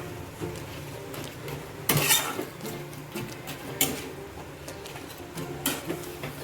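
Raw mango and jaggery stirred in a pan on a gas stove, with scattered clinks and scrapes of a spoon against the metal, a few sharper knocks standing out over a quiet background.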